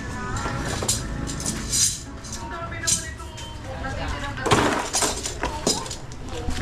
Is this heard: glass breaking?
yes